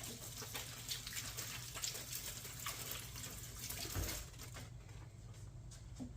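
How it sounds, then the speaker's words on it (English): Water running from a kitchen tap as hands are washed, a steady close splashing stream with brief rubbing and clunks. "Wash my hands."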